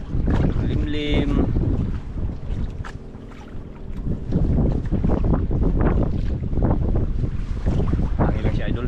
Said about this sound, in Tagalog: Hangin lang siya idol, hindi rin maganong hindi malakas yung alon mga idol.